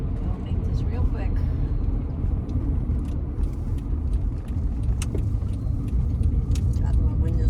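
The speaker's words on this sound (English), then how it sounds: "keep the car running, Jen" A car engine idles steadily nearby with a continuous low rumble, interior cabin sound, while people talk over it throughout.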